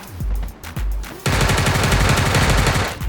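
Rapid bursts of automatic gunfire scoring headshots in the mobile battle royale game Sausage Man, loud and close, a few scattered shots followed by a sustained dense volley with no talking.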